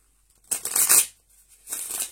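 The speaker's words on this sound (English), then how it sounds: "I'm going to shuffle." Tarot cards being shuffled by hand, two quick riffling bursts separated by a short pause, close and crisp with no talking.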